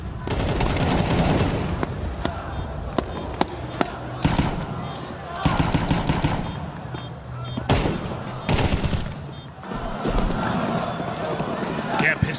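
Pistol gunfire during a competitive Counter-Strike 2 match, sharp sharp shots in quick bursts and scattered single cracks, with footsteps and game effects and a commentator talking over the action.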